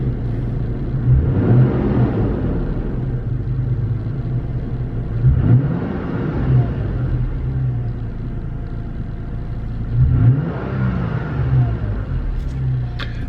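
Toyota Tacoma TRD with an aftermarket intake, heard from inside the cabin while driving: a steady low rumble with three swelling surges as the engine accelerates, moderately loud and alone without talk.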